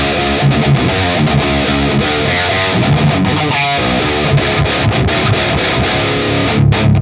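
An 8-string guitar played through a Revv Generator 100P tube amp on a heavy rhythm tone, thick distorted chugging chords and palm-muted riffs, loud and continuous without talk.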